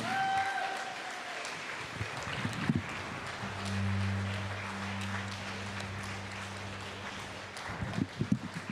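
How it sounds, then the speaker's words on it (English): A concert audience applauds, a soft, diffuse wash of clapping heard from some distance, with a low steady hum rising underneath in the middle and a few sharper bursts near the end. "huge, huge round of applause."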